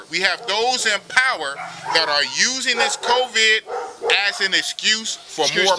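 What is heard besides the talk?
dog barking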